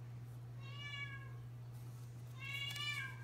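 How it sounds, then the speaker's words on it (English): A cat meows twice, once early and once near the end, moderately close, over a steady low electrical hum with no talking. "Sorry, you have to excuse my cat if you can hear him."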